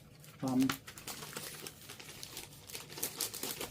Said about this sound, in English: I keep breaking the plastic bag.